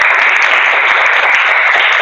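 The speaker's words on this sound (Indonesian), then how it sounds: "Tepuk tangan untuk Mbak Zida" A classroom bursts into dense, loud clapping that holds steady for about two seconds as a group applauds a student named Zida.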